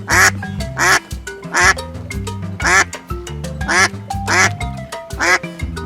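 Duck quacking in a livestock animal-sounds set, loud and close, with repeated bursts of quacks in an irregular rhythm throughout.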